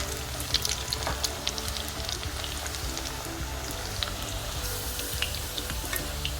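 Pieces of Chicken 65 deep frying in hot oil give a steady, dense crackle and bubbling hiss with scattered sharper pops, close and continuous throughout.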